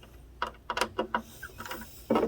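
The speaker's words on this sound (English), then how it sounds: "I'm gonna tighten down my grub screws" Short metallic scrapes and clicks from grub screws being tightened with a small tool on RC boat hardware for a carbon fibre hull, several quick bursts close up and without talk.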